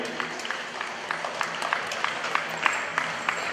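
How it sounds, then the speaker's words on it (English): A powerlifting meet crowd gives a round of applause after a heavy squat attempt, a fairly faint, steady wash of scattered hand claps throughout, with no one speaking. "Let's give a big round of applause."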